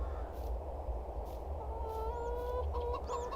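A chicken in Farming Simulator 22 clucks softly in a few short bursts, fairly faint over a steady low farmyard hum.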